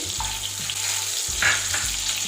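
Cashews and peeled cardamom pods frying in butter, a short burst of close sizzling with a couple of stirring scrapes, no talking.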